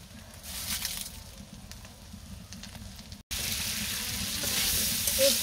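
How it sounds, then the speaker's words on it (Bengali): Potatoes frying and sizzling in a pan during village cooking, a steady crackling hiss that cuts off briefly and returns louder and denser, with no voices. "এই তো আলু কষানো হয়ে গেল"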